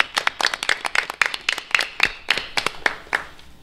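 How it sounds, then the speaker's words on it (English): A small audience at a city council meeting claps for staff, sparse individual hand claps in a quick uneven patter, close and fairly quiet, with no talk over it. "A round of applause."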